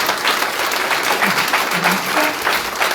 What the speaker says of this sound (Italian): un applauso ai due cori